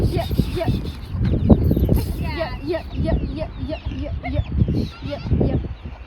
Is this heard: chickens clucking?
yes